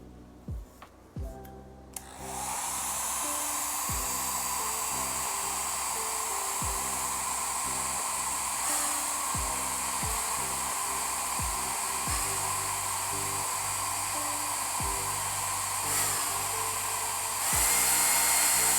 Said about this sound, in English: Incidentally, this is not a hair dryer. This is a photochemistry warming device.